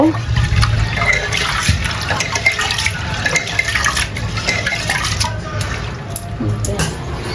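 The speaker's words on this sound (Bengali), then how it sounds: "এখন আমরা ডালগুলো ভালো করে ধুয়ে নেব।" Lentils (dal) being rinsed in water in a home kitchen, with continuous sloshing, swirling and splashing close by, steady throughout with small bursts of stirring.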